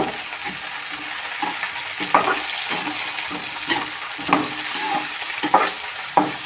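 Cluster beans with dal stirred in a frying pan, rhythmic scraping strokes of a spoon over a continuous close sizzle, with occasional louder clinks against the pan.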